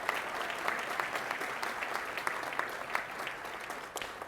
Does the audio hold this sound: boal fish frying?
no